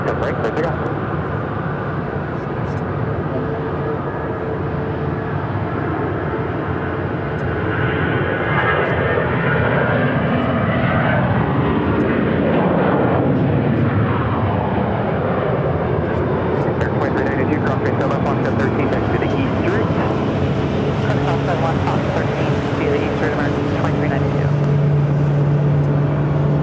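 An airplane at Phoenix airport roars continuously and loudly, its engine pitch sweeping as it passes nearby, with a sustained broadband rumble throughout.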